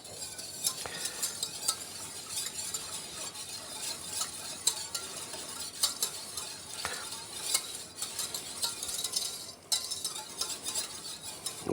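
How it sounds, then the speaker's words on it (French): A whisk stirring liquid in a saucepan with quick metallic scraping and light clinking, continuous and close, with a faint sizzle beneath. "On fouette un peu. Un petit peu pour bien mélanger."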